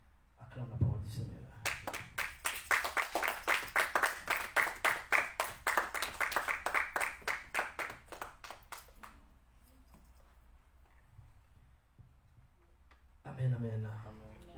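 A church congregation bursts into rhythmic, steady clapping during a worship service, loud and sustained for several seconds before fading, with voices heard speaking at the start and end.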